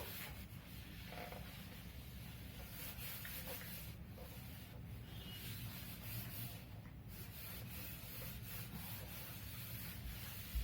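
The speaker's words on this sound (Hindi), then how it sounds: "So I'm going to erase this." Writing erased from a board by steady rubbing in a classroom, a continuous soft scratchy friction that runs evenly for about ten seconds with faint strokes rising and falling, no voices.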